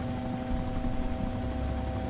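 A helicopter in the DayZ game: a steady, low droning rotor and engine hum with faint tonal whine, held at an even, moderate level throughout, with no speech.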